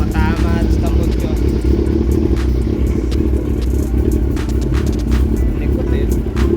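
A Yamaha R1 motorcycle engine idles while warming up, its steady loud rumble mixed with clattering and scraping, while someone talks over it.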